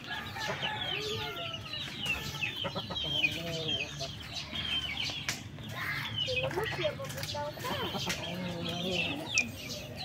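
Japanese Shamo chickens cluck repeatedly at a breeding farm, with short, scattered calls and an occasional crow from several birds at moderate distance, mixed with faint background voices.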